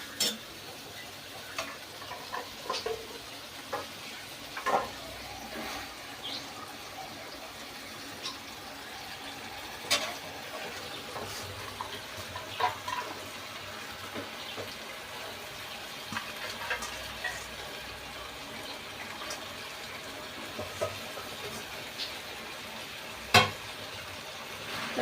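Bottle gourd greens fry quietly in a pan with poppy seeds, giving a faint, steady crackle with scattered soft pops and ticks throughout and no speech.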